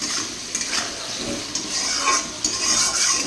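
Potatoes fry with onion and spices in a pan, giving a close, steady sizzle with scraping stirs and light clinks of the spatula against the pan.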